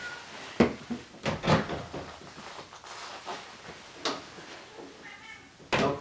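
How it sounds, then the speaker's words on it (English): A house cat at a door wanting to come in, heard as scattered short meows and scuffling knocks like a door or cupboard moving, fairly close, with no talk. "That's the cat."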